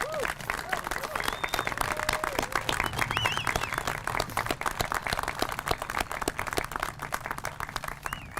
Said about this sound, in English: I would like to take this opportunity for a heartfelt round of applause for all veterans in